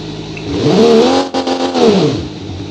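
A small French car engine in a 1945-era Automation/BeamNG driving game revs loudly and strains, its pitch rising and falling with a brief stutter midway, heard alone and close.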